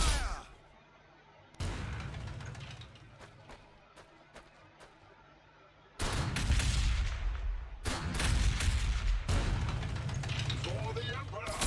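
Suppressing gunfire from the Warhammer 40,000: Sanctus Reach game bursts out in heavy, loud volleys with sharp individual cracks, quieter battle ambience between them and a louder dense barrage near the end.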